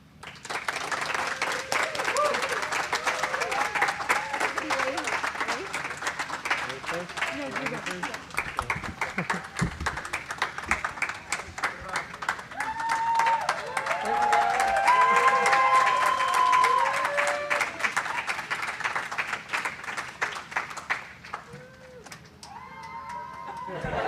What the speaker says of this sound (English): Please join me in a round of applause as we wish our crew well and they enter the habitat.